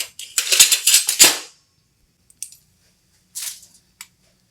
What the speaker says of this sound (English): I'm going to grab another spoon because the first one is like really, really sticky